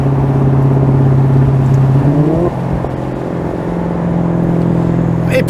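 A Maserati GranTurismo engine revs hard and steady, its pitch climbing, then drops sharply and settles into a lower, rumbling drone. The sound is close and loud, with no talking.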